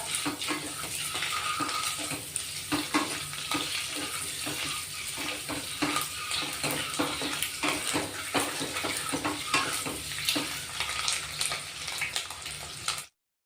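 Onion and grated coconut sautéing in a pan until browned, a close crackling sizzle with frequent sharp pops and spatters throughout, fairly loud and continuous before cutting off abruptly at the end, with no talking.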